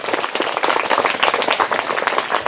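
Brisk clapping from an audience at a school prize-giving for a top student, a lively burst of individual claps heard fairly close, lasting a couple of seconds.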